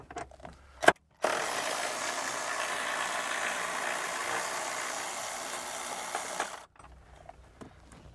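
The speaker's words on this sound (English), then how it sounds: "So just using a 12mm socket now. Remove that first one." 12mm socket ratchet working a battery tray bolt loose on a Toyota LandCruiser 300 Series, a steady close whirring click run lasting several seconds between a few short knocks.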